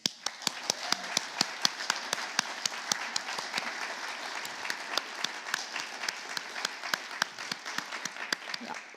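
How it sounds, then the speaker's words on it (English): Audience clapping after a live music performance before a film screening, a modest crowd with distinct individual claps standing out, steady and fairly close throughout. "I think that we owe a big round of applause once again"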